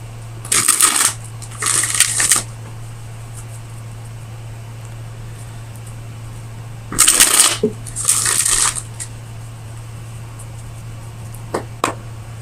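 Tarot cards shuffled in four quick riffled bursts, two near the start and two midway, separated by quiet room hum, followed by a couple of soft taps as cards are drawn and placed.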